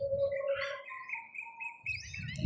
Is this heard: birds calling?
yes